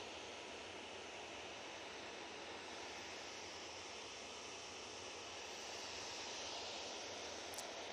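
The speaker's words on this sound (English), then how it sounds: "TUI 737, next out." A TUI Boeing 737 departs Manchester Airport, a faint, far-off engine roar that swells slightly toward the end.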